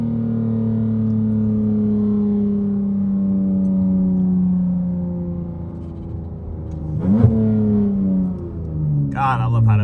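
A modified V6 Dodge Charger pulls hard, its engine droning steadily as the pitch climbs, then shifts and dips, loud and close from inside the car, with a voice speaking near the end.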